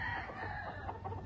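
A young Baby Bulls gamecock rooster clucks and calls nearby in a short run of raspy notes, fairly faint against a farmyard background.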